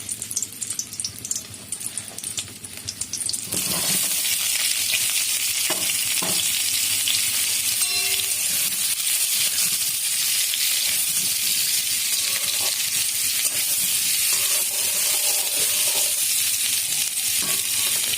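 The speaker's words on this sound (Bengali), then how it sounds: "অন্য একটি কড়াতে একটু তেল দিয়ে আলুগুলোকে একটু লাল লাল করে ভেজে নিতে হবে" Potatoes sizzle steadily in hot oil in a wok-style kadai for Kashmiri aloo dum, a loud continuous crackling hiss that starts abruptly a few seconds in and stays dense and even, with faint stirring scrapes and no talk.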